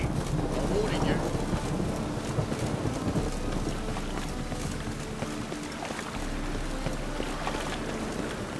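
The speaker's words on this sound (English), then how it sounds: "The storm." Heavy thunderstorm with steady pouring rain and low rumbling thunder rolling throughout, a dense, continuous wash of noise with no voices.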